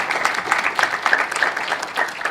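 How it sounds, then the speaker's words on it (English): A conference audience at a hospital innovations event claps in a brisk, lively burst, many hands clattering together close and continuous for a couple of seconds. "Big round of applause."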